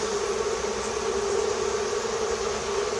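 Bees in an opened hive in an apiary make a dense, continuous droning buzz, steady and close, with no pauses over the short stretch.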